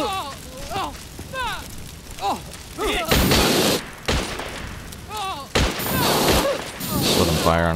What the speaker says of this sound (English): Looks like I got a mortar firing on me